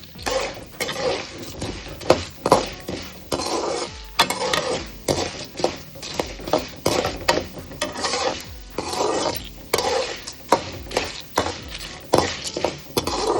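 Urad dal and peanuts roasting in a pan, stirred with a utensil that scrapes and clinks against the metal in a repeated rhythm of rasping strokes, close and moderately loud.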